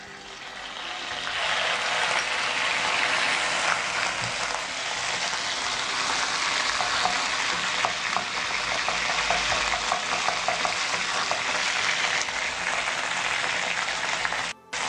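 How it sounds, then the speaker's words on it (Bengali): Sour yogurt hitting hot oil with crushed cinnamon and green cardamom for Bengali-style doi paneer, a loud, dense, continuous sizzle close up that holds steady for the whole stretch before cutting off abruptly at the end. "এবার এই তেলের মধ্যে আমি দিয়ে দিচ্ছি টক দই।"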